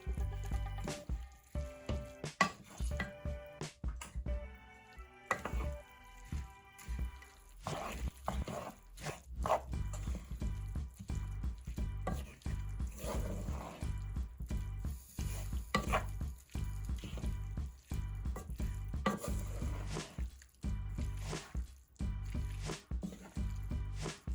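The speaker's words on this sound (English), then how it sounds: "now I've just drained them and adding them to the veggie medley. Gonna give that a good stir" Drained noodles are stirred into a sizzling vegetable medley for sesame gochujang noodles, with repeated close, wet squishing and scraping strokes in an irregular rhythm over a soft background sizzle.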